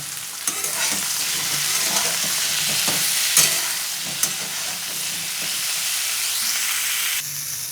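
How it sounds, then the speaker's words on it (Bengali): Steady loud sizzling of vegetables with turmeric and salt frying in a wok, with occasional scrapes and knocks of stirring, no voices. "এগুলো একটু ভেজে নেব"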